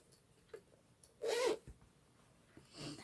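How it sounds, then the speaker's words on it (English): A cloth-lined zipper pouch for planner supplies is unzipped in one quick, close rasping pull, with quiet handling sounds before and after. "I see this one comes with a zipper pouch."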